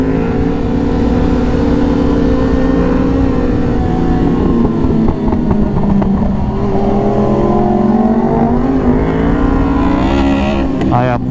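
A Suzuki Hayabusa motorcycle engine pulls under sustained throttle, a loud close roar with pitch sweeping up and down through gear changes, wind noise and a rider's voice intermittently over it.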